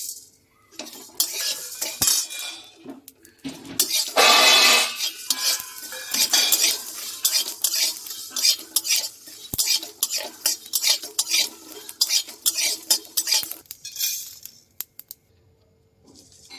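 Dry whole spices for mango pickle stirred in a metal pan, with steady scraping and clinking of a utensil in irregular strokes, close and fairly loud, with short pauses and no talking.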